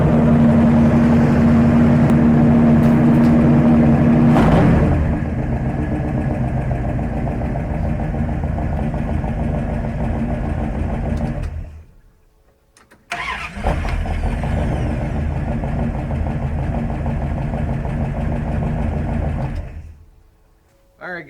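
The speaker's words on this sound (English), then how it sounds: "you can hear it trying to come up on its fast idle faster because the engine's already got some warmth" A carbureted engine idles steadily in cold weather, its fast idle rising as it warms, then cuts out briefly before running again at a constant, close drone until it stops.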